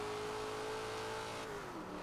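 Holden Torana race car engine in Forza Motorsport revving hard near redline, a strained, steady high-pitched tone with layered harmonics that dips as the revs fall toward the end, heard alone.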